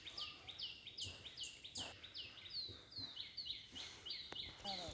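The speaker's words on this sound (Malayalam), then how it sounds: "ഇവിടെ മൊത്തം കിളികളുടെ സൗണ്ട്." Many small birds chirp and tweet in rapid, repeated descending calls throughout, fairly close and steady, with faint background murmur and occasional soft knocks.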